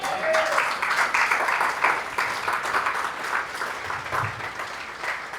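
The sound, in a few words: congregation applause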